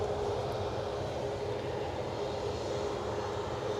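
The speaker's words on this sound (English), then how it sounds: "let's get to the departing plane." An aeroplane departing on a flight to Tenerife roars with a loud, steady engine rumble, a broad continuous jet noise that holds constant throughout, with no voices over it.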